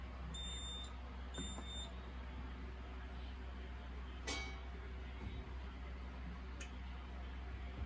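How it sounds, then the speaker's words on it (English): A Notifier fire alarm duct detector sounder gives two short, high electronic beeping bursts close together near the start. A low steady hum fills the background and a couple of faint clicks follow. "And here is for the duct detector sounder."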